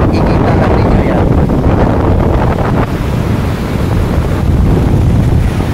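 Heavy wind buffets the microphone over constant crashing surf on a beach, a loud, unbroken roar of waves and gusts.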